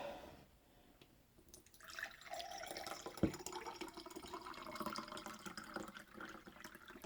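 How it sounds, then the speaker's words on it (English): Water poured into a measuring container up to a fill line, a steady trickling flow that starts after a quiet opening and continues as a moderate, close pouring sound with one sharp knock partway through. "Now, I go and add water"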